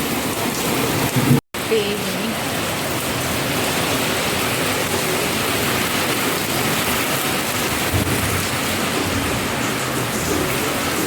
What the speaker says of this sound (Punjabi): ਅੱਧਾ ਘੰਟਾ ਪੂਰਾ ਤੇਜ਼ ਮੀਂਹ ਪਿਆ